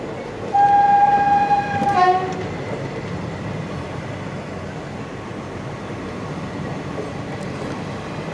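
Indian Railways passenger train in motion: a steady rumbling roll of coaches with a loud train horn blast near the start, then constant wheel and carriage noise.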